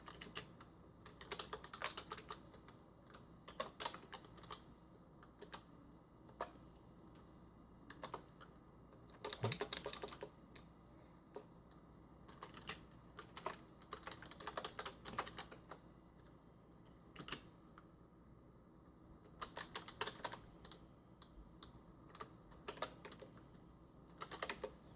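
Someone types on a computer keyboard in the Windows 11 setup command prompt, with bursts of quiet, close key clicks and brief pauses between them.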